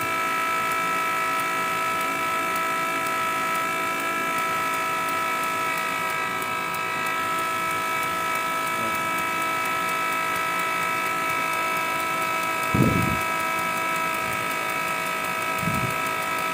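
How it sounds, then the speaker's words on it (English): A steady mechanical whine and hum from a fuel injector test bench running continuously, simulating engine operation with fluid flowing, close and even, with two brief low thumps near the end. "simulating the running condition of the fuel injectors while the engine is running"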